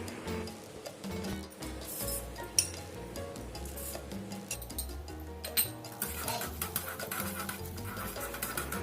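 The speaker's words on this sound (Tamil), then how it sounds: "எண்ணெய் நல்லா சூடானோடனே எடுத்து வச்சுருக்க கடலைப்பருப்பு, உளுத்தம்பருப்பு 2யும் போட்டு கொஞ்ச நேரம் வறுத்துக்கலாம்." Chana dal and urad dal roasting in hot oil for kuzhi paniyaram, with frequent light metallic clinks and scrapes of a spoon stirring in the pan over a soft background hiss.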